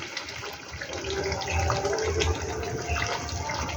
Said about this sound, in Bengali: এবার আমি দুধটা দিয়ে দেবো। আমি 500 গ্রাম দুধ নিয়েছি।